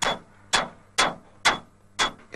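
A hammer taps the firebox stays of a British Rail steam locomotive during maintenance, striking five sharp, ringing blows at a steady half-second rhythm, close and clear.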